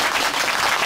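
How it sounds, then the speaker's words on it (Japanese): Dense, steady applause from a live audience at a Japanese comedy talk event, loud and close, filling the whole brief moment with no voices on top. "拍手で聞いてみましょう"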